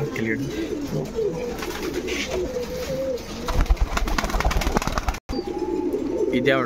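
Old line pigeons kept for sale in Bangalore, heard as continuous throaty cooing and rustling flapping close by, with someone talking over them for much of the time.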